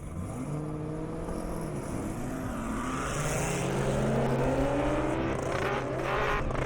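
A Chevrolet Camaro ZL1 accelerating hard down an airstrip at a drag racing event, its engine note rising through gears as it pulls away, heard at a distance over steady outdoor background noise.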